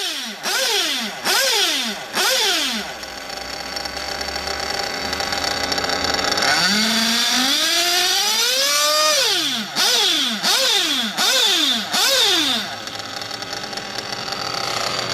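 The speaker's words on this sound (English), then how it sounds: "we're gonna get the engine heated up" Small nitro RC car engine revving in repeated sharp bursts that rise and fall, then a longer sustained climb in pitch, loud and close, with a lower idle between revs.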